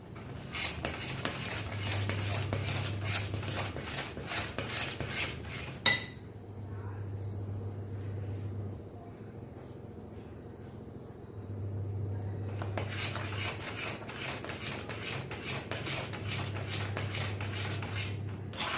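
A jaggery sweet mixture is stirred in a pan over low heat, giving repeated metallic scraping and clinking of a spoon against the pan in bursts, with a quieter stretch in the middle.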